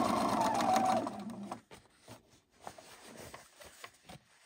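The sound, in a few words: sewing machine stitching a pant hem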